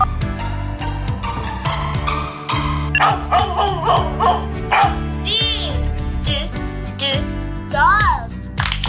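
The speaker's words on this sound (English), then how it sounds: "Dog." A dog barks several times in short yips and bow-wows over a busy, bright musical backing, in a children's animal-sounds sequence.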